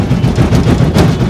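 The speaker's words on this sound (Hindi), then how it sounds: "पटाखा ही हो गया।" Firecrackers go off in a loud, rapid crackle, a dense burst of close bangs lasting about a second.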